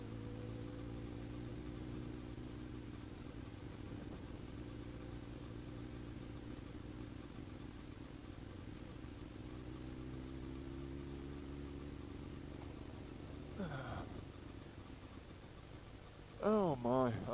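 A motorcycle engine hums steadily while riding on a hot day, a low droning note throughout, with a brief rustle and short voiced sounds near the end.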